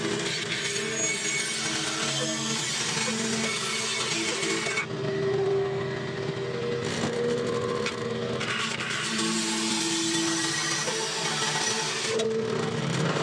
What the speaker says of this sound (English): All right, let's go to the bandsaw,